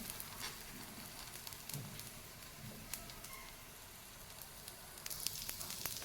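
An onion paratha sizzles in oil on a tawa, a faint, steady crackle and fizz with scattered small pops that grow slightly busier toward the end, with no one speaking.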